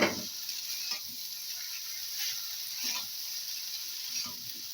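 Chow mein noodles sizzling steadily as they are stirred and fried with vegetables in a pan, with soft scraping strokes of the spatula at intervals, close by and alone.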